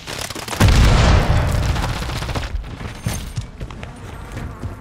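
A grenade goes off in Call of Duty Modern Warfare 3 multiplayer, one loud, heavy blast with a deep boom that rolls off into debris and rumble over a few seconds, with faint battlefield noise after.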